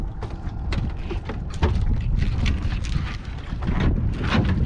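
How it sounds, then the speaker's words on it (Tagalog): Strong wind buffets the microphone on a fishing boat at sea ahead of an approaching typhoon, a loud continuous roar with gusty surges and mechanical rattling underneath. "Parang naghahangin-hangin na po siya."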